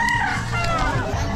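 A gamecock rooster crows loudly and close by at a shop selling fighting cocks, its strained call rising over other fowl clucking and a busy, noisy background.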